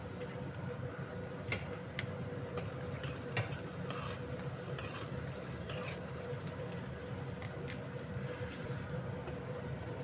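Curry leaves and dried red chillies stirred in a hot pan, giving a steady close sizzle with sharp ticks and scrapes of a spoon against the metal throughout.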